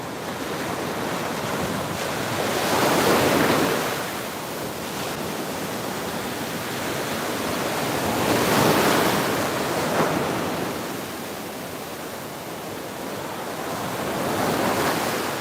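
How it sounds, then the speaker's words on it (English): Ocean waves breaking on a Fort Lauderdale beach at sunrise, a steady wash of surf swelling and receding roughly every five seconds, with wind buffeting the microphone and no voices. "I'm gonna let y'all look at the waves"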